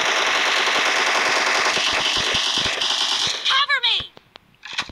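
Sustained automatic gunfire in the battle royale game PUBG, loud and dense rapid bursts for over three seconds, then breaking into a few isolated shots with ricochet-like whines and scattered impacts near the end.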